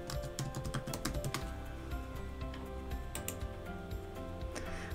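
Password being typed on a computer keyboard, a steady run of quick, close key clicks with a few sharper taps, over a constant background hum and no talking.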